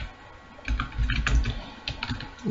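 Someone types C code on a computer keyboard, an irregular burst of close, crisp key clicks after a short quiet start, with a few pauses between strokes and no voices.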